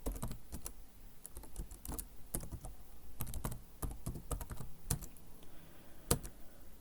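Username typed on a computer keyboard into a software login setup form, a steady run of close, quiet key clicks with irregular rhythm and a few sharper taps, no voices.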